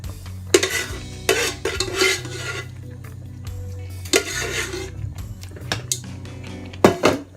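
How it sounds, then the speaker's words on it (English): Okra being stirred into ogbono soup in a cooking pot, with scraping and knocking of the spoon in uneven bursts and a light sizzle underneath, all close by. "And then we stir it."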